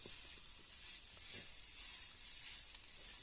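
Roasted brinjal and onion sauté in a pan for chutney, giving a faint, steady hiss of sizzling with a few soft stirring scrapes. No one speaks.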